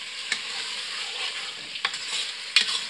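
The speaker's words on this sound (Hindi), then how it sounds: "तेज़ आग पे इसको भूनना, अच्छे तरीके से आपके चने भून जाएं" Black chickpeas roasting over a high flame hiss in a continuous, loud sizzle, broken by a few sharp scrapes and knocks of a spoon stirring them in the pan.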